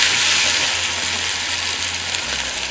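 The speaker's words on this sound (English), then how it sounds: "Our sauce is frying nicely" Panla sauce fries in a pot with a steady, close, bright sizzle and a continuous crackle, unbroken and alone for the whole stretch.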